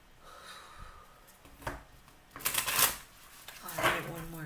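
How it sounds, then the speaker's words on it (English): Tarot cards are shuffled close by in a few crisp riffling bursts, with soft breathing and quiet voices in between. "good shuffle"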